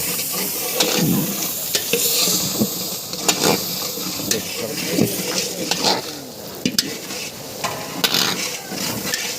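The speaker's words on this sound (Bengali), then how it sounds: "ভালো করে নাড়াতে হবে নাহলে লেগে যাবে" Vegetable dal masala fries in a kadai while a spoon stirs it, giving sharp scraping knocks over a steady hiss and sizzle.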